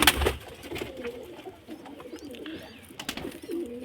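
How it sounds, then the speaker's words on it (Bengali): Madrasi pigeons coo in a loft near their chicks, soft throaty coos repeating close by with some rustling and faint chirps, no speech. "এটা দেখো ম্যাড্রাসি পায়রা বাচ্চা,"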